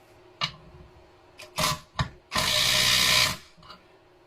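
Cordless drill running on a 4 Ah Action battery, short bursts of motor whine then a longer sustained run that cuts out as it stalls, loud and close with no talk.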